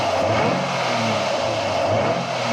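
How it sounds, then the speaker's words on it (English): A Jaguar XJR engine idles steadily at operating temperature in a garage, a constant, close, even hum with no talk over it. "That's a mighty fine engine right there."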